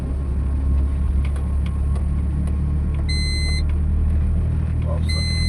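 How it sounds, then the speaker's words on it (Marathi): A road sweeper vehicle cleans a city road at night after rain, giving a steady low engine rumble throughout with short electronic beeps sounding in brief bursts. "ही आहे बघा साफ करायची रोड साफ करत चालली"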